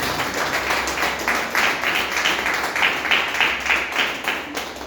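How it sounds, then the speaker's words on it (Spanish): Church congregation applauding during a Spanish-language service, a dense continuous wash of clapping at steady loudness throughout. "¿Cuánto le puedes dar un fuerte aplauso al Señor?"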